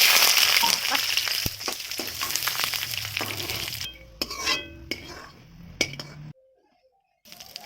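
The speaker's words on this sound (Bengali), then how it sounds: "এই তেলের মধ্যে মা এখন চিনে বাদামগুলো দিয়ে দেবে।" Raw peanuts fry in hot oil in a wok over a wood-fired clay stove, a strong sizzle with clinks and scrapes of a metal spoon against the pan, fading into quieter scattered clatter and near silence.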